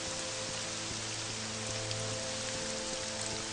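Heavy rain pours down in The Elder Scrolls game in a dense, continuous hiss, with a faint steady hum underneath and no voices.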